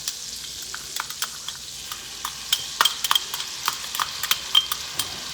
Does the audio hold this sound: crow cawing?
no